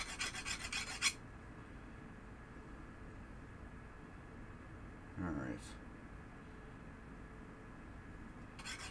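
A metal file cuts a bevel on a stepper part from a 1973 Williams Triple Action pinball machine. Close rasping strokes come in a short burst at the start and again at the end, with quiet room hum between.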